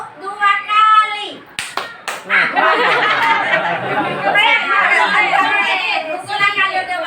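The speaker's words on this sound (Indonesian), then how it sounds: "Tepuk tangan sekali, 2 kali, tepuk 2 kali." A group claps hands in a few sharp bursts, then a longer round of applause mixed with chatter and some laughter nearby.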